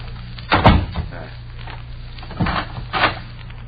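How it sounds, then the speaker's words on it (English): A door is shut with a clear thump, then a second pair of knocks or clunks follows as it is locked, a close, staged radio-drama effect over a low steady hum, with no voices. "I will close the door."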